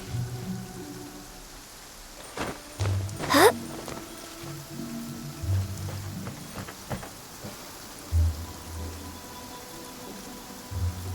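Rain in the video game Genshin Impact patters softly and steadily in a courtyard, broken by a few low hollow thumps and one brief rising whistle.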